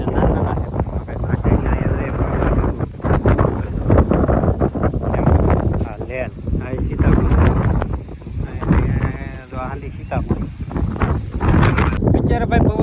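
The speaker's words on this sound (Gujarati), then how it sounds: "અત્યારે ભાઈ પવન ઉડી ગયો જોરદાર" Strong wind sweeps across a dragon fruit farm, roaring and buffeting the microphone in loud, continuous gusts, with voices talking underneath.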